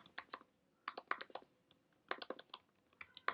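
Bursts of quick keystrokes on a computer keyboard while coding, clustered in short runs separated by pauses, close and fairly quiet.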